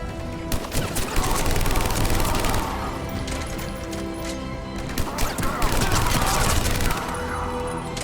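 Rapid bursts of gunfire and explosive crashes from a firefight in the video game Mass Effect 3, loud and dense throughout with brief lulls, layered under game sound effects and voices.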